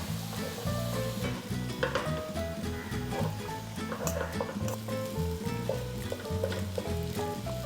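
Rice is added and stirred into a hot pan of pulao, sizzling and frying steadily with scraping stir sounds, while background music plays throughout.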